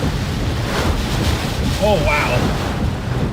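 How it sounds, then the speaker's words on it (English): Strong storm wind gusts roar steadily around a vehicle during an Illinois tornado chase, a loud, continuous rushing buffet, with a person briefly exclaiming partway through. "we're getting into some really strong wind gusts here"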